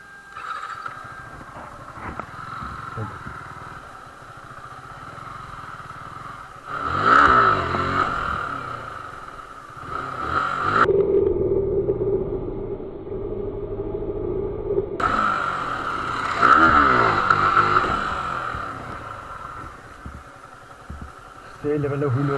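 A Yamaha R15 V4 motorcycle idles, then revs hard twice for wheelie attempts, the engine whining up and easing between bursts, close and loud, while someone talks over it.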